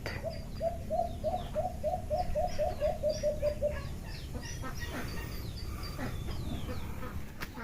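Birds call in a quick series of cooing, clucking notes, fairly faint over a low background rumble, then fade to scattered chirps.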